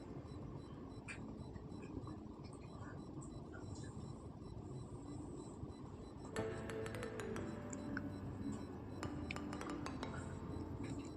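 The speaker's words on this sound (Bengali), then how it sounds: "দেখুন আমি এরকমভাবে কষিয়ে নিচ্ছি" Masala spices for vegetarian chana masala are stirred and fried in a pan with a low sizzle, then a spoon clinks and scrapes repeatedly against the metal in the second half.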